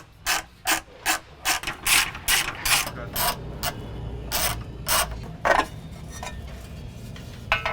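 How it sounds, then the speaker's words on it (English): A 10mm socket on a ratchet backs out the shield over the fuel filler neck of a 2007-2018 Mercedes. About fifteen short, crisp bursts of pawl clicking follow one another in an uneven rhythm, close and clear with no talk. "You can remove this with a 10mm socket."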